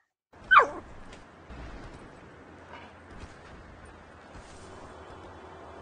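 One sharp, high yip from a hungry dog sounds at the start, followed by faint, low background noise with only soft, scattered small sounds.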